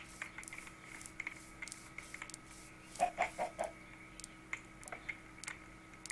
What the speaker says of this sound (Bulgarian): сега ще мога тъкмо да си сложа една кокошка